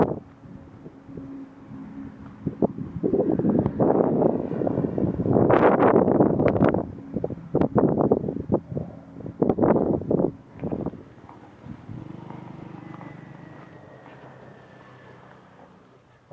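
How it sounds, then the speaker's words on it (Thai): Wind gusts buffet an action camera's microphone outdoors during a slow walk with auto settings at 4K 30 fps, rumbling in loud bursts through the middle and easing to a steadier low roar toward the end. "แล้วก็จะมีลมพัดด้วยนะครับ"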